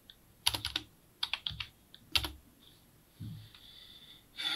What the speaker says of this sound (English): and then come here again, press space bar, and then here type